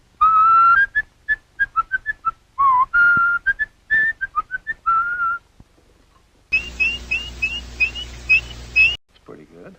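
An animatronic Disney robin from Mary Poppins whistles a bright, warbling song in quick trills and phrases, loud and close, followed by a dense burst of busier whistling over background noise near the end.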